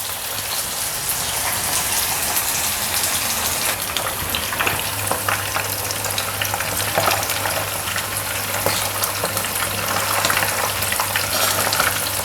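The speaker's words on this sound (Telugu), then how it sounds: "ఈ ఫిష్ ఫ్రై అవ్వడానికి పెద్ద టైం ఏం తీసుకోదు తొందరగానే అయిపోతుంది" Fish frying in hot oil makes a loud, dense, unbroken sizzle with crackling spatters throughout, close up and with nothing else over it.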